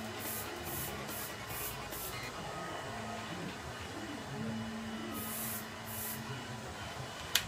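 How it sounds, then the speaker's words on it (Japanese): Hair spray hisses in short, evenly spaced bursts onto hair while a hair dryer on a low, cool setting blows steadily underneath; the spray returns in a couple more bursts near the end, with no talking. "スプレーを縦にかけていきます。"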